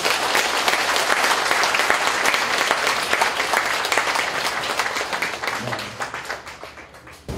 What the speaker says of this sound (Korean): 큰 박수 좀 보내드리고